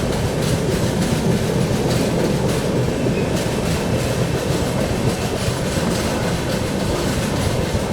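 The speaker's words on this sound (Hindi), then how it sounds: "अपनी पाटलिपुत्र सुपरफास्ट एक्सप्रेस स्किप कर रही है कटनी जंक्शन को यहाँ पर" Patliputra Superfast Express running through Katni Junction without stopping, heard up close as a loud, steady roar with rhythmic clickety-clack of wheels over rail joints and no talk.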